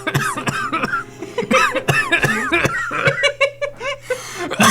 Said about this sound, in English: So I was about to get into a coughing fit and then it caught me off guard